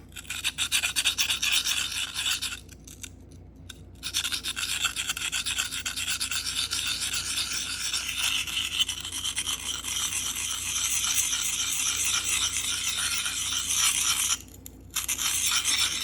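A blade rasps steadily against a Sharpal diamond field sharpener, its dry scraping strokes running continuously, broken by two brief pauses.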